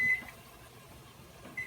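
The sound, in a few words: kitchen timer going off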